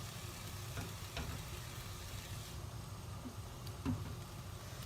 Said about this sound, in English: So I'm gonna stir it.